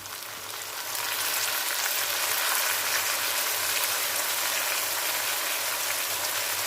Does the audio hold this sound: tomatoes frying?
yes